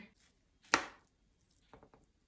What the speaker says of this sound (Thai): จะหั่นหมูยอใส่ด้วยนะเห็นไหม